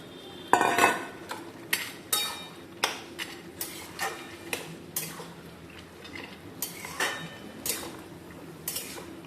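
Bori lentil dumplings dropped into bottle gourd cooking in a pan, a series of sharp clinks and taps of a spoon against the pan spaced every second or so, fairly close with a faint sizzle beneath.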